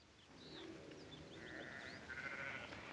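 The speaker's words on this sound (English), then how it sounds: "Now, Drummond, get those sheep out now." Sheep on open land bleat faintly at a distance, a few wavering calls rising and falling over quiet outdoor ambience.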